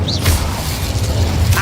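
Casting the Incendio fire spell in Hogwarts Legacy produces a loud, sustained burst of fiery booming rush with a brief whoosh at the start, thick low rumble throughout and no pauses.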